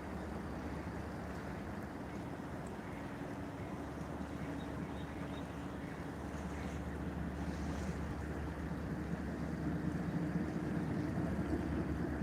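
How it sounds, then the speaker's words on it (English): Steady, soft rush of flowing water beside a riverfront park near a swinging bridge, a continuous faint wash with some wind noise and no talk. "Can you hear the water?"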